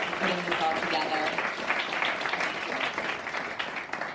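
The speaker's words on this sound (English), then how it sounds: "Big round of applause for Liza for putting this all together." Audience applause at an indoor professional networking evening in New York, a steady wash of clapping from a room of people, fairly faint and even throughout, with a few voices mixed in.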